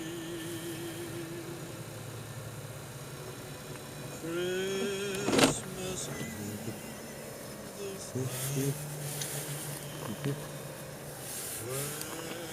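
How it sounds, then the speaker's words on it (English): Windshield wipers on a car driving home through a snowstorm in Ocean City, Maryland, sweeping with a squeaking, scraping noise at intervals over steady engine and road hum inside the cabin. "Must be new wipers. Making some noise."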